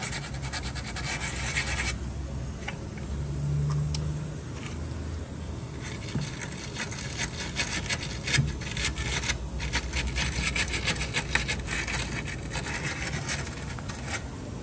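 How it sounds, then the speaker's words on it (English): Sandpaper of 180 grit rubbing over a ground-down weld on a 1999–2007 Ford Super Duty extended cab door, a steady close scratchy rasp with irregular strokes and a few sharper scrapes, with no talking. "We're sanding it a little bit with some 180."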